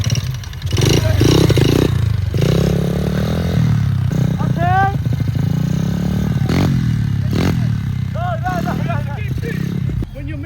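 A pit bike engine running while being ridden, a loud buzzing motor that rises and falls in pitch with revving and gear changes, mixed with clatter and scraping and people talking over it.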